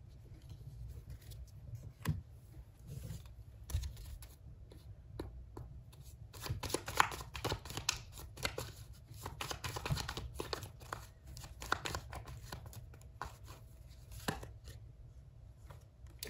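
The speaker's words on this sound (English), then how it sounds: "And we will be drawing the rest of the oracle cards." Oracle cards being shuffled and drawn, a steady rustling, slapping shuffle with crackly card contacts running continuously, close and moderately quiet, with no talk.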